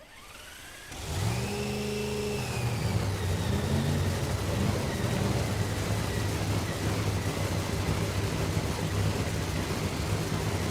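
A nostalgia nitro funny car fires up at a 2022 drag racing meet at RAD Torque Raceway, its engine roaring loud and close, with a rising rev before settling into a sustained, thunderous idle.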